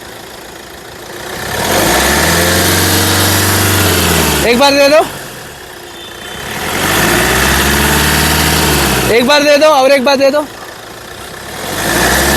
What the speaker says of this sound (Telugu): ఇంజన్ యొక్క నాయిస్ చాలా సైలెంట్గా అయితే ఉందండి